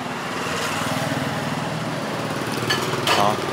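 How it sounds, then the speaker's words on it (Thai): A Honda Click 125 motorcycle engine, started by remote, idles steadily at close range, a low buzzing drone with a couple of brief higher bursts near the end. "เดี๋ยวมาสั่งสตาร์ทที่หมดให้ดูนะกด2ครั้ง"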